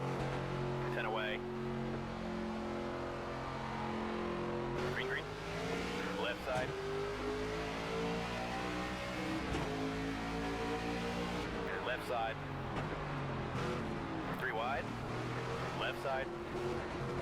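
Several race car engines in the NASCAR 25 video game whine and shift pitch in layered, rising tones as the field pulls away. The engines sound loud and continuous, with repeated gear changes.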